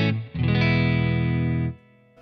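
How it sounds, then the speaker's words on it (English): Clean electric guitar played through a pedal board with fuzz and overdrive pedals switched off: one chord rings out loud and sustained for about a second and a half, then is cut short. "Okay, so this is my clean sound."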